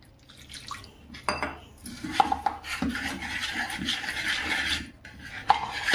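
Gram flour (besan) batter being stirred by hand in a bowl while water is added a little at a time, giving close, irregular scraping and rubbing strokes with soft clinks, loud and without talk.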